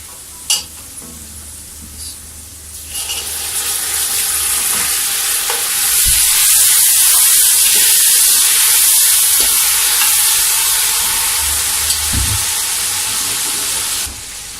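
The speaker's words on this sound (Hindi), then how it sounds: "ये टमाटर डालने से इनको हमें अच्छी तरह मिक्स कर देंगे।" Tomatoes hit a pan of golden-brown frying onions for a mixed vegetable sabzi, setting off a loud, steady sizzle with hissing steam and intermittent scraping stirs throughout.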